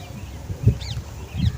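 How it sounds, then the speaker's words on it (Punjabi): Parrots call outdoors in the open air near a quiet main road: two brief, faint high chirps come from a distance over soft wind rustle and low thuds. "ਤੋਤੇ ਗੀਤ ਗਾ ਰਹੇ ਆਪਣੇ ਮਜੇ ਵਿੱਚ ਲੱਗੇ ਹੋਏ ਹੈ"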